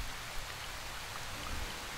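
Steady rain falls in S.T.A.L.K.E.R., an even hiss of drops on the ground at moderate volume with no voices.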